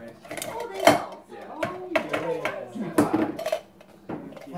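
A can of instant snow is pried open with a can opener, giving irregular metallic clanks and scrapes close by, mixed with people talking.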